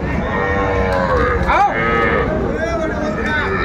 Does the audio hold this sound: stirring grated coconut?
no